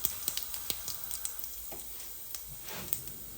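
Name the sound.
cumin and bay leaves sizzling in hot oil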